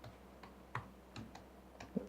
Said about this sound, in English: So let's start typing.